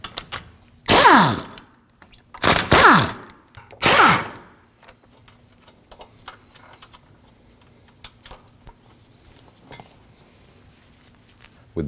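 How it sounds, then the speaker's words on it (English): Ratchet work on 17mm bolts at the back of a rear wheel hub knuckle on a 2016-2022 Honda Pilot: three loud metallic bursts of clicking and clanking, then quieter scattered taps and handling noises. "We have 4 17mm bolts to remove."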